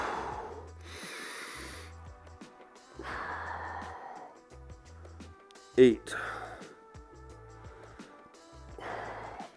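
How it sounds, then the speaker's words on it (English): A person breathes heavily during an active stretching mobility exercise, loud rhythmic exhales and sharp snorting breaths repeating in bursts about every second or two, with one brief spoken word between them. "You hear a lot of breathing from me."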